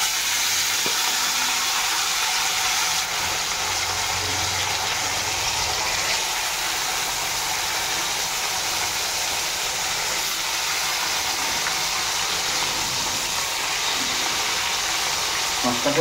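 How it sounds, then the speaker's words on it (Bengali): Rohu fish fries in hot oil with turmeric, giving a steady, loud sizzle and hiss that holds evenly for about sixteen seconds, close up, with no talk over it. "এবার একটু হলুদ দিয়ে দেবো, কারণ এবার মাছ ভাজা শুরু করব"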